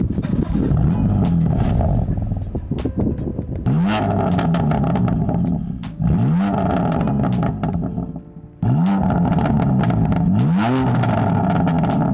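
A BMW F82 M4 on a Bear Mountain run revs loudly and up close through repeated surges of acceleration, each climbing in pitch before easing off, with brief gaps between bursts and no talking.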